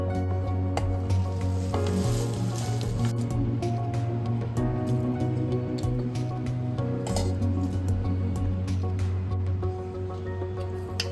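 Mixer grinder jar whirring as it grinds curry leaves, a steady close motor drone with rattling and clinking bits running the whole time.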